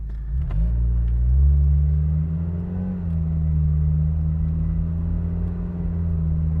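A Peugeot 306 1.6 petrol engine with AL4 automatic gearbox hums steadily while driving, a low droning rumble that shifts pitch slightly as it holds speed, with a brief click near the start.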